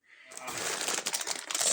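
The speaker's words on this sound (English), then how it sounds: "much clicking sound when they are running, like tick tick tick tick tick" Fast, steady mechanical clicking runs through the clip and grows louder, a dense ticking from a diesel heater's small pump in a van, heard up close.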